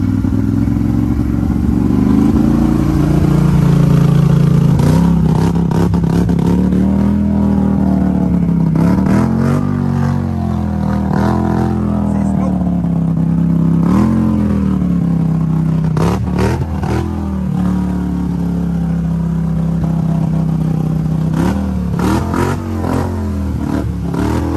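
A Polaris Sportsman 850 Highlifter ATV on small tires drives in two-wheel drive, its engine droning loud and steady throughout with rises and dips in revs and some clatter.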